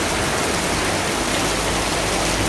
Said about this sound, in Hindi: दिख रही है आपको बारिश।